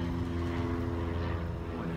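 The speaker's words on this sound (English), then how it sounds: "A couple clouds and a plane in the sky." Propeller airplane droning in the sky above an outdoor picking market on a clear day: a steady, low humming engine sound with a tonal buzz, continuous and fairly faint, no talk.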